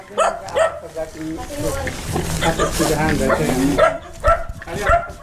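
Several dogs bark and yip in short bursts nearby, mixed with people talking over them.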